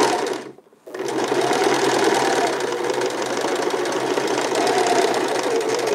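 Sewing machine zigzag stitching through felted wool sweater fabric for mittens, a loud, close, continuous motor hum and rapid needle chatter after a brief pause near the start.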